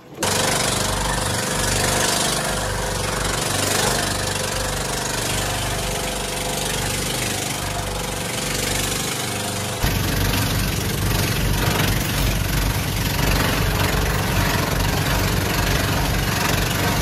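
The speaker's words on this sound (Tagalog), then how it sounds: "Nakakabungog ang makina." A boat's engine runs loud and steady at close range, a dense droning rumble with a knocking pulse that shifts to a slightly different pitch partway through and keeps going without pause.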